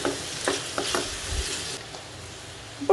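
Potato pieces go into a hot, sizzling pan of Tamil kuzhambu curry and are stirred, with a steady frying hiss and a few scraping spoon strokes, fairly close and without talk.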